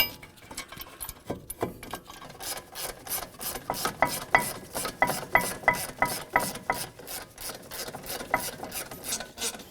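A ratchet tightens the front brake caliper mounting bolts on a 2012-2019 BMW 328i, its rapid, regular clicking strokes close and prominent after a few scattered mechanical scrapes, with no talking.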